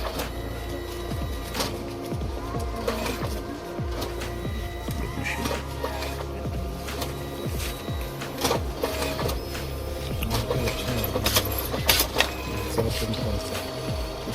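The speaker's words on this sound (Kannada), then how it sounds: "ಇದು ಫೋಟೋ ಪ್ರಿಂಟಿಂಗ್ ಮೆಷೀನು." A photo printing machine runs steadily, printing a picture sent from a mobile phone, with a continuous mechanical whir and rapid repeated clicks, close and fairly loud, and some background noise.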